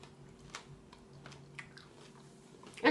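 Soft, close crunching and chewing of a dehydrated bug with a crunchy shell, irregular crisp bites over quiet background with no talk.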